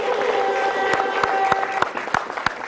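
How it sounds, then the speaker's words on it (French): A burst of light applause from a small crowd, steady clapping over a faint background tone, with a few sharper individual claps standing out. "On l'applaudit."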